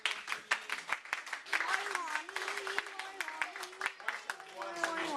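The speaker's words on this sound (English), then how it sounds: "Big round of applause" A party audience claps and cheers for a volunteer being called up, a dense run of handclaps with sharp peaks, while someone talks loudly over the crowd.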